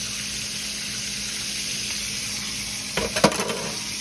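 Fish sizzles crisply in hot oil in a frying pan, a steady close crackle that briefly flares louder with a few sharp spatters as the pieces are moved near the end.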